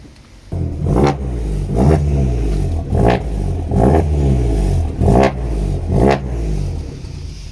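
A loud tuned Fiat 500 Abarth engine with a TD04 turbo, about 270 hp, revs repeatedly outdoors, rising in roughly six bursts with rattly, throaty pulses between them.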